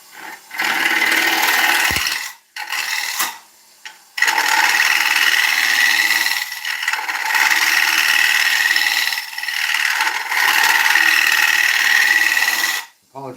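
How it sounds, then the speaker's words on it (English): A loud, steady whine of a wood lathe turning ash, with broad high hiss and tonal bands, pausing briefly a few times before resuming. "The faster that lathe spins, the cleaner the cuts I'll make"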